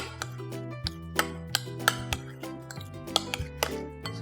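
A utensil clinks and taps against a bowl while egg is stirred into rice vada batter, with irregular light strikes over a steady low background hum.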